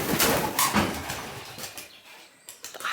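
Pigeons flap close by in a burst of loud, broadband wing beats, then a quieter pause before a few more sharp flutters near the end.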